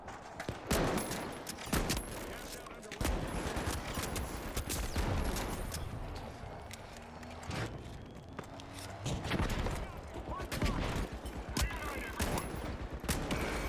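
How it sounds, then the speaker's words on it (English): Video game gunfire with sniper shots, dense bursts of rapid shots and sharp cracks repeating throughout, loud and busy, with mechanical clatter and some faint talk mixed in. "I don't like it when the snipers shoot me with their sniping bullets."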